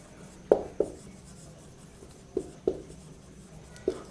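A definition is written by hand in a chemistry class, giving five sharp close taps and strokes at irregular intervals against a quiet room, with no talk.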